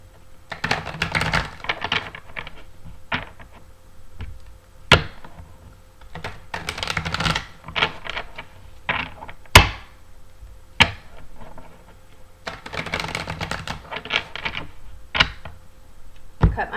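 Tarot cards are shuffled and riffled in repeated bursts, crisp papery flutters and snaps with short pauses between, close by.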